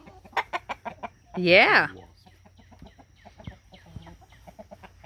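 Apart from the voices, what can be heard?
rooster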